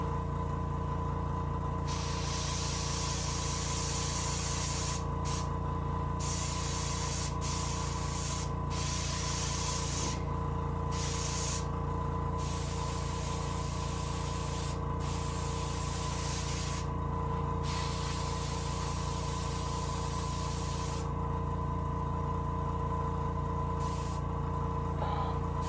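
A long, steady hiss of spray paint as dark brown is sprayed onto the nose pad of a mounted deer head, close and continuous with a few brief pauses, over a constant low hum.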